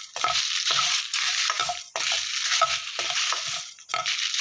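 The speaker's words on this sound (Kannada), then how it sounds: "ಮೀಡಿಯಮ್ ಫ್ಲೇಮಲ್ಲೇ ಫ್ರೈ ಮಾಡ್ಕೊಳ್ಳಿ" Masala spices frying in a pan over a medium flame for Nellore chicken sukka, a steady close sizzle broken by repeated stirring scrapes at a regular pace, with no talking.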